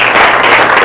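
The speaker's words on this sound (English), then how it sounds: "Let's give them all a round of applause" Audience applause at a judicial candidate forum, a short, loud, dense burst of many hands clapping together with no talk over it.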